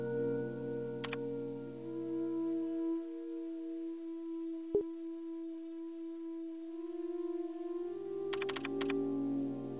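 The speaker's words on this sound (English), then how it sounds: "Look at the typing." Typing sound from a computer terminal in a Resident Evil game: two short bursts of rapid keystroke clicks, one near the start and a denser run near the end, over steady game music and ambience.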